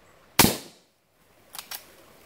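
Reloaded 240-grain lead bullets fired over a chronograph: one sharp, loud gunshot with a quickly fading tail, then a quiet pause and two fainter, closely spaced cracks.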